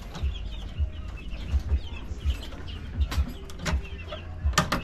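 Chickens cluck in backyard coops, with soft repeated calls and occasional sharper bird notes over a steady low rumble of thumps and movement, fairly close throughout.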